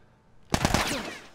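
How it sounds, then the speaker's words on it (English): A short, loud burst of AK rifle fire in The Last of Us Part 2, several rapid cracks blending into a sustained roar that tails off, with no talking over it. "That guy has an AK. He's in here. Yo, you're just shooting though."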